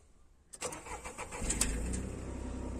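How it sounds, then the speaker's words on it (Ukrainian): A taxi car's engine cranks briefly and catches, then settles into a steady idle, close and clear, with faint birdsong in the background. "заводите автомобіль і включаєте кондюк"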